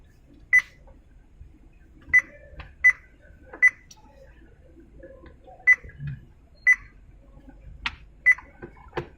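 Short electronic key beep tones from a 10.1-inch Android car stereo in a Kia K5 sound one at a time at irregular intervals, crisp and close, with a faint voice in the background.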